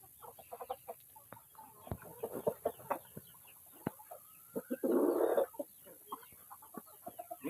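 Rhode Island White egg-laying chickens in a garden cluck in a busy flurry of short, overlapping calls, near and varied, with one louder drawn-out squawk midway.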